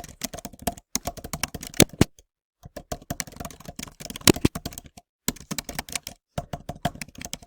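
Rapid typing on a computer keyboard, close and crisp, with bursts of dense key clicks broken by short pauses, nobody speaking.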